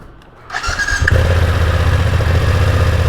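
A 2020 BMW F900R motorcycle cold-starts close by, with a brief starter whir and then a loud, steady idle rumble that carries on alone to the end.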